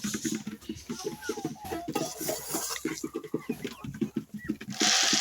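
Chickens clucking at feeding time, a close, busy stream of rhythmic clucks and calls from several birds, steady throughout with a brighter burst of noise at the end.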